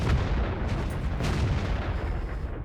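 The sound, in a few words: artillery shot firing in the video game World of Tanks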